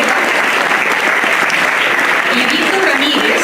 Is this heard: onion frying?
no